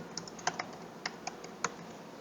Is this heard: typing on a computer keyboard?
yes